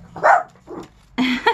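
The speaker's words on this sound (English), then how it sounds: "And now Cricket, my little Cricket's gonna bark at him" A small dog lets out three quick barks close by, the last a sharper double yap, with quiet pauses between them.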